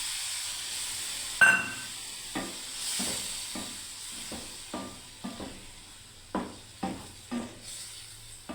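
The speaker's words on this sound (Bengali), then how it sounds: "এবার আমি জল দিয়ে দিচ্ছি বন্ধুরা" Water goes into a hot pan of dal: a sharp sizzle bursts up first, then steady hissing with a run of spaced clicks and taps from stirring, close and fairly loud, and nobody speaks.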